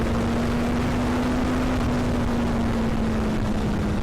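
An 800cc motorcycle engine pulls hard under acceleration, a loud, steady droning roar with a sustained low tone that barely shifts in pitch, mixed with rushing wind noise throughout.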